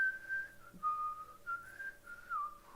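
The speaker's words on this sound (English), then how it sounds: "especially the part that the guy is whistling" Melodic whistling of a tune from a song, a single clear whistled line of a few sustained and sliding notes, faint and alone.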